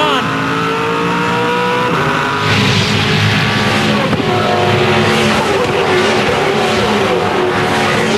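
Race cars roar past at high revs in the 2007 Bathurst 1000, engines droning continuously with a surge of louder, closer engine noise and tire sounds partway through.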